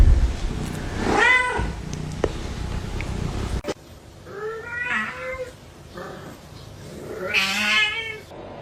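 Kitten meowing several times, close and clear, with a few short, rising calls spread across the stretch, separated by quiet pauses and soft handling noise.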